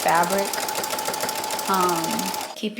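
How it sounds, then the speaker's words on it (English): A sewing machine stitching a fabric pouch, a steady close mechanical hum with a voice talking over it throughout. "I'm going to sew that as well."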